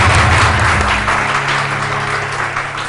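A studio audience applauds on a talk show, a loud dense burst of clapping that gradually thins and softens over a few seconds.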